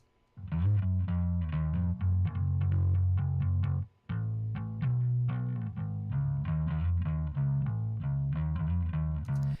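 An electric bass guitar plays a steady run of plucked notes alone, with a short pause partway through, full and rumbling with a slightly effected tone.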